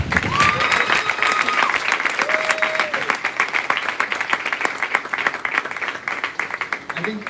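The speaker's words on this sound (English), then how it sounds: "Please, can our next round of applause be for his wife?" Sustained applause from a large crowd, steady and dense clapping throughout with a few faint voices mixed in.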